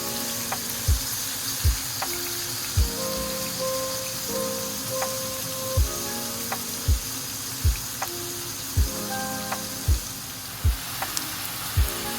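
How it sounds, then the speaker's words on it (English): Beef stir-frying for salpicao in garlic-infused oil gives a steady close sizzle, punctuated by about a dozen sharp, regular knocks of a utensil against the pan. "Using the same oil, put in your beef and stir fry again for 3 to 5 minutes."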